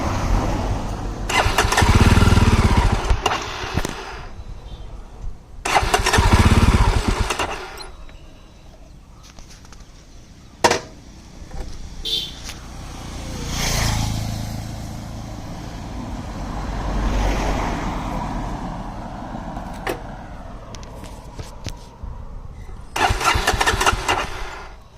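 A Jawa Perak motorcycle engine is cranked and restarted, with loud starting bursts followed by a steady mid-pitched idle. More revving bursts come near the end.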